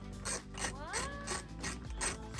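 A hand ratchet tightens bolts while a RecPro air conditioner is fitted to a converted school bus RV, giving rapid metallic clicking in quick repeated strokes, close and clear.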